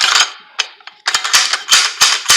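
A rifle bolt is trial-fitted into a KP-9 pistol carrying an UltiMAK M19 optic mount, with close, sharp metallic clicks and sliding scrapes in a quick irregular series of about eight bursts.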